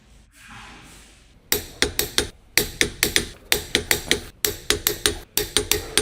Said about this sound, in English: Using the large 19mm long socket with the large torque wrench, tighten the wheel lug nuts.